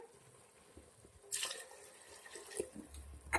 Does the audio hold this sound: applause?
no